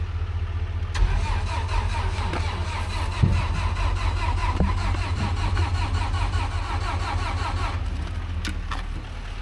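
A dead crane's gasoline engine cranks and turns over continuously in a steady mechanical churn, loud and close, without catching.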